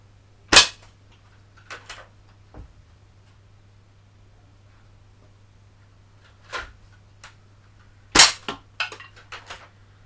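Air rifle pellets strike plate steel greaves at close range, giving a few sharp, loud impulsive cracks spread apart with short metallic rattles and pings trailing after each hit, quiet between shots.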